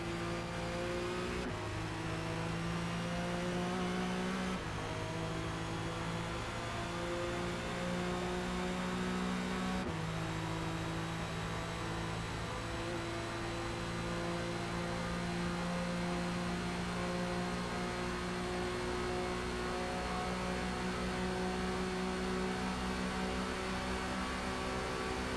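A Cadillac race car engine in Forza Motorsport at Le Mans drones loud and steady throughout, its pitch climbing through the gears with a few abrupt shifts early on, then holding a high sustained whine.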